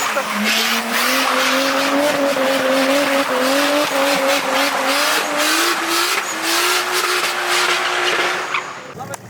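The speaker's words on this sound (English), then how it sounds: "The engine's still going." Car engine running at a drift event in wet, dark conditions, loud and close with a rising and falling engine note against continuous tire squeal and skidding, while people talk over it.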